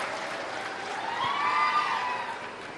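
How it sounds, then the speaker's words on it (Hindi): Crowd applause at a statewide employment day program welcoming a woman who took a loan to set up an oil mill, a continuous moderate round of clapping swelling slightly then easing, without talk. "एक महिला ने अपनी ऑयल मिल लगाने के लिए लोन लिया है, उनका भी ताली बजा के स्वागत करें"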